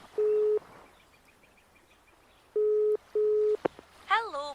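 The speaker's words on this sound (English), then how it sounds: "It's ringing for you now." Telephone ringing tone on an office line as a held call is put through: one steady buzzing burst, a pause, then a close double burst, cut short by a click and the start of a voice.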